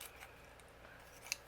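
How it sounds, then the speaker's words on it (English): Scissors trimming overhanging cardstock during cardmaking, a single quiet snip standing out near the end against faint room noise. "I'm going to take my scissors and just trim away the hanging over bits."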